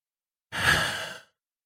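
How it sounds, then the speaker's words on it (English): One long, deep breath is drawn in and let out close to the microphone during an emotional-freedom tapping exercise. The breath sounds like a soft, airy sigh of under a second, with silence before and after. "take a nice big deep breath"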